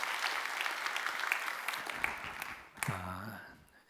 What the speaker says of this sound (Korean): 여러분 박수 한번 해주셔요